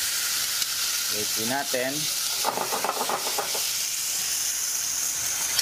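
Bits of chicken skin sizzle in a pan while gourmet pasta with tinapa is being prepared. A continuous close frying hiss runs throughout, with a person speaking briefly over it.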